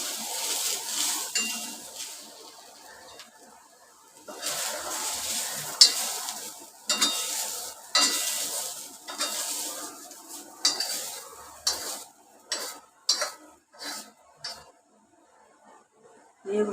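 Grated fresh coconut roasts in a pan after the onion, for a Malvani-style masala paste. A spatula stirs and scrapes it in irregular close bursts over a faint background sizzle, and the strokes grow sharper and more clipped toward the end.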